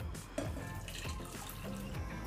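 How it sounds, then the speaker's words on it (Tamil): Water pours and splashes into a pressure cooker holding banana stem, a soft continuous trickle with faint drips, fairly quiet. "இப்போ இந்த வாழைத்தண்டை வேக வைக்கிறதுக்கு நான் ஒரு சொம்பு அளவுக்கு தண்ணி சேர்த்துக்கிறேன்."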